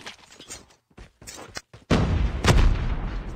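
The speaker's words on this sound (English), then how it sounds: "We can get a nade kill shot. Grenade!" Grenade explosion in a ranked video game match: a sharp, loud blast bursts in after a few quieter clicks and thumps, followed by a rumbling boom and lingering noisy aftermath.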